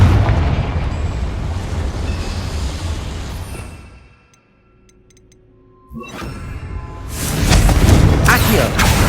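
A Confringo fire spell from Hogwarts Legacy explodes in a loud, roaring burst that fades into a brief lull before a second blast of crackling, rumbling debris swells back up near the end.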